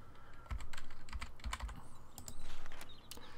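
Rapid keyboard typing during a session of the survival game 7 Days to Die, a short burst of close, clicky keystrokes in uneven clusters with brief pauses, no talk over it.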